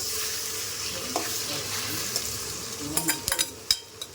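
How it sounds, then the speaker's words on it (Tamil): Chopped tomatoes go into a frying kelava fish curry and get stirred, giving a steady close sizzle with scraping stirs and a few sharp clinks of spoon against pot near the end. "இப்போ கட் பண்ணி வச்ச டொமேட்டோஸை ஆட் பண்ணிடலாம்."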